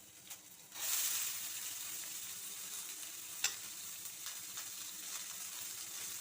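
Bay leaf and onion pieces drop into hot oil and burst into a steady, close hiss of frying that settles into a soft continuous sizzle with a faint stir and clink.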